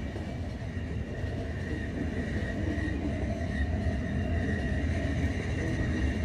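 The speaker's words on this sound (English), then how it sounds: "Stop the train!" A train in the video game The Final Station runs with a steady, loud rolling rumble and faint rhythmic clatter, a constant mechanical hum that continues unbroken with no voices.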